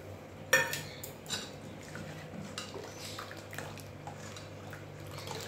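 Onion, carrot and bell pepper tossed with salt in a bowl for a healthy breakfast batter, giving soft clinks and wet rustling stirs, with one sharp knock early on, close and fairly quiet.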